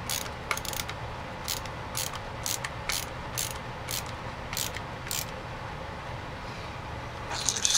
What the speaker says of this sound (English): Got that screwdriver.